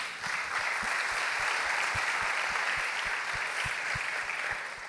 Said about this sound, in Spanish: te damos un fuerte aplauso a ti